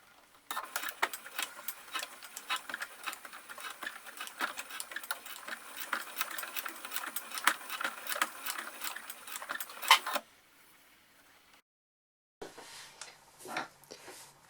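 A sewing machine stitches a folded seam on a fabric clothespin bag, its needle running in a steady, fast rhythmic clatter for about ten seconds at close range before stopping, then a few brief softer handling sounds after a pause.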